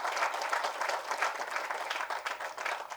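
A crowd applauds steadily and densely at an award ceremony honoring social activists, where actor Karthi hands over a cheque; the clapping stays fairly even and moderately loud throughout.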